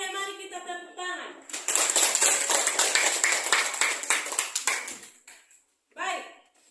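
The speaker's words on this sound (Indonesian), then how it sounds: "Oke, mari kita tepuk tangan." A class of students clapping hands together in a classroom, a loud dense burst of rhythmic clapping lasting a few seconds, framed by a teacher's voice before and after.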